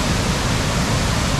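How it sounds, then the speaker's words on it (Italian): A river in full flood rushes past, a loud, dense, unbroken roar of churning water that fills the whole short stretch evenly, with no voices. "Portando a vedere questo fiume che è in piena adesso"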